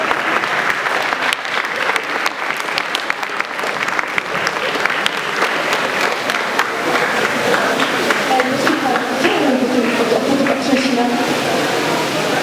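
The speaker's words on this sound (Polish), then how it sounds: "Brawa dla kolegów, koleżanek." Sustained applause from students honouring classmates at a Polish school ceremony for first-year pupils, a dense steady clatter of many hands filling the hall with crowd murmur underneath throughout.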